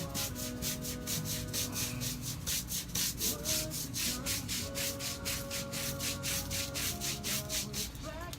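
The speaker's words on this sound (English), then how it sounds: "Commence the scrubbing." Steady back-and-forth scrubbing of teak wood being cleaned, a rhythmic brushing rasp repeating about twice a second, close and even throughout with no talking.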